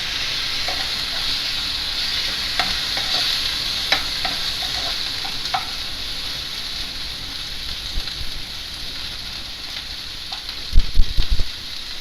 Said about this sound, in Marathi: 1-2 मिनटं कांदा छान लालसर गुलाबी असा तेलात परतवून घ्यायचा